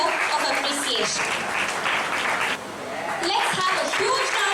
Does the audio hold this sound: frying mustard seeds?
no